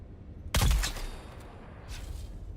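A single loud, close shotgun blast fired in Dune Awakening, an abrupt boom followed by a decaying rumbling tail and a fainter second report about a second later, with no voices.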